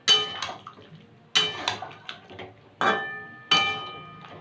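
A spoon stirs curry in a metal cooking pot, giving several sharp clanks and scrapes in an uneven rhythm, close and fairly loud, with quieter rattles between them.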